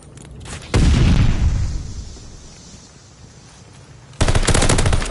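Gunfire in a Call of Duty search and destroy match, two loud bursts of rapid automatic fire, the first decaying into a rumbling tail before the second hits hard and keeps going.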